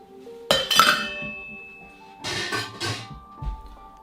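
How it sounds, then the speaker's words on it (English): Ice cubes are dropped into a cocktail shaker with a bright, clattering clink, first in one dense cluster and then again in a couple of shorter bursts with a soft knock at the end. "get your cocktail shaker and add 45 ice cubes"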